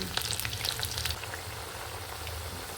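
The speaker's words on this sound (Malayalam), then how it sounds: "ഇളക്കി കൊടുക്കും എല്ലാ സൈഡും ഒന്ന് വേകട്ടെ വട മൂത്തു" Parippu vada, crisp lentil fritters, frying in hot oil while being turned, giving a steady close sizzle with brief stirring scrapes and bubbling crackle early on that settles to an even hiss.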